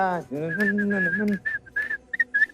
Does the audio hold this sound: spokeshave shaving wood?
no